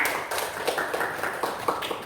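A small audience, likely a classroom, claps hands in a loose, uneven rhythm with distinct individual claps standing out close by, fairly loud throughout.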